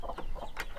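Chickens on a farm in the Russian countryside give a few soft, short clucks close by, over a low steady background hum.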